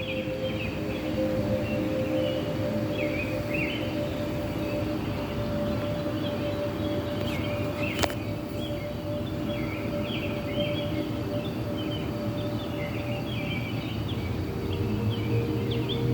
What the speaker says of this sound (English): you can also hear the birds.